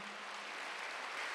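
A church congregation claps at a Korean Wednesday worship service, a short burst of steady, fairly faint applause filling the room.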